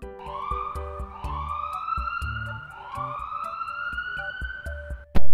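A blood mobile's siren wails in a steady rising-and-falling electronic pattern, loud and close over a rhythmic mechanical pulse, with an abrupt loud burst at the very end.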